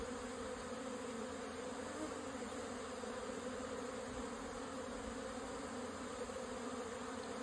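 Honey bees buzz in a dense, steady drone around a productive apiary hive, close and continuous.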